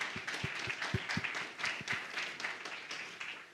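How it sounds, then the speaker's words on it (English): An audience at a joint RFA research seminar applauds the panelists and fireside chat speakers: steady, dense clapping throughout, with a few sharp low thumps near the start. "So a very generous applause for the fireside chatters and for the panelists."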